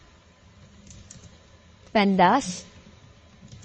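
Faint, scattered keyboard clicks tapping along at a quiet level, with a brief spoken word partway through.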